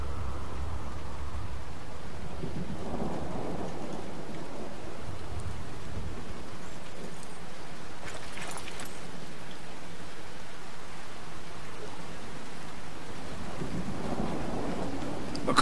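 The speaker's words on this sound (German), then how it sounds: "Ich glaube, das ist nur ein einfacher Regen." Steady rain in the video game Fallout 4 hisses throughout, with low rumbling swells rising and fading in the background. No one speaks.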